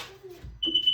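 Sea-Doo GTI jet ski electronics emitting a short, sharp, high-pitched beep near the end, close and clear after a brief muffled sound.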